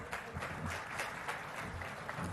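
Audience applause at a stage event introducing a government presentation on the Musi riverfront plan, a steady, fairly quiet wash of many hands clapping with no talk over it.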